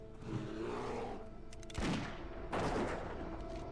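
A sniper-scoped gun fires in World of Warcraft over busy combat noise, with two heavy booming shots about a second apart standing out, and no voices.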